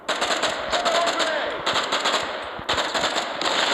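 Rapid automatic gunfire from a video game rattles continuously at close range, with brief pauses between long sustained bursts.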